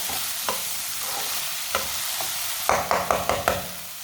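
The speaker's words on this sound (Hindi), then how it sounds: "प्याज को 1 मिनट के लिए मैंने पका लिया है।" Onions frying in a pan for aloo tikki, a steady low sizzle with a spoon scraping and tapping the pan, first in single strokes and then in a quick run of stirs near the end, close and without talk.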